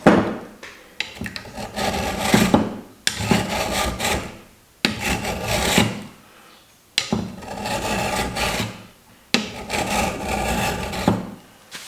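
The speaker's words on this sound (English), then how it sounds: "just do one draw with a file and see if how much we take off" Metal file rasping along the edge of a steel putty knife being made into a card scraper, in four long, loud, gritty strokes separated by brief pauses, no talking.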